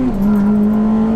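Honda Civic FD2 Type R accelerating past another car on a road, a loud, close engine drone with a strong steady tone that rises slightly as it pulls through.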